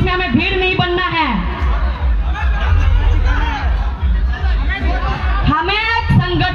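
A large crowd murmurs at an outdoor political rally, a steady babble of many voices beneath someone speaking loudly over it, with the hubbub staying continuous throughout.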